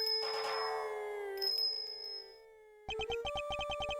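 Ringing bells announce the blind butcher in the Ace Attorney Investigations 2 video game: sustained metallic tones that fade, then a quick run of rhythmic chiming strikes, clear and alone.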